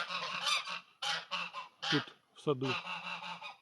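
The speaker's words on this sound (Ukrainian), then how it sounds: "Гуси велика сіра. Досить крикливі." Loud greylag geese honking repeatedly nearby, harsh nasal calls overlapping one another, with a brief bit of talking mixed in.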